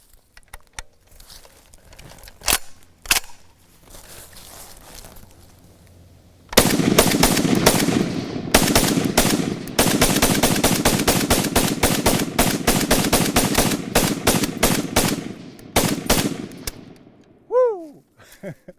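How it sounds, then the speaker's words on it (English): A Madsen light machine gun empties a full magazine in one long, loud rattling burst of rapid shots after a few scattered single reports, then the firing stops abruptly. "so I'm going to do a mag dump"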